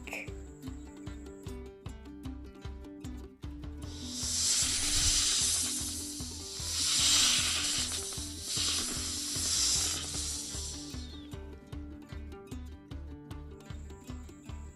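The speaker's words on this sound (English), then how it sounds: "The sound of a hissing snake is loud or soft." A snake's loud, breathy hiss swells and pulses for several seconds over a steady background of music, then fades away.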